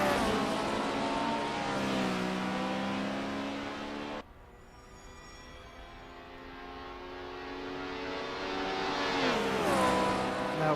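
Combustion-engined race cars in a racing video game at Suzuka rev and shift, the engine note climbing through gears, cutting abruptly, then a quieter engine building up again to a loud high rev, with no speech.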